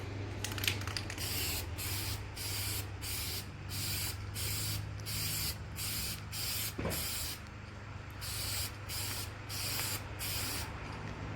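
Dupli-Color aerosol clear coat sprayed from a can onto a Fiat 500 roof, in a series of steady hissing bursts with short pauses between them, over a low background hum.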